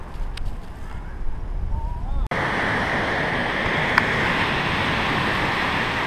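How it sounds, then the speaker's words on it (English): Sand avalanches down a sand hill with a steady, loud rushing hiss, much like surf, beginning suddenly after a quieter windy stretch, and a brief knock partway through. "Sand avalanche surfing."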